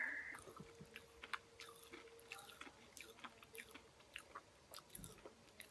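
Close, wet chewing and crunching of sour Pop Rocks candy, with soft crackles and squishy bites in an irregular rhythm, faint and near, with no talking.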